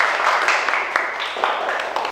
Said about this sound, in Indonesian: Beri tepuk tangan untuk kelompoknya Rada ya.